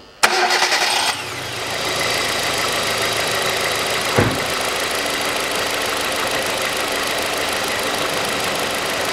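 A worn Hyundai Accent 1.5 engine that misfires and knocks is cranked and catches, then settles into a steady, slightly uneven idle close by, with a brief thump partway through.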